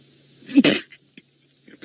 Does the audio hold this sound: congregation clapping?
no